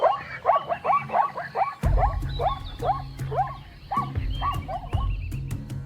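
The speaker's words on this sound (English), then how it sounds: "African wild dog pack has recognized the weakness." A pack of African wild dogs calling on the hunt: a rapid series of high, chirping yips and twittering squeals, loud and close, over low rumbling and scuffling noise.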